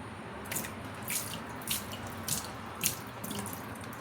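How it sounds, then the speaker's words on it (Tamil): Water sloshes and pours out in short bursts, splashing into a sink with gurgling between pours. "சுத்தமாக தண்ணியை வடி."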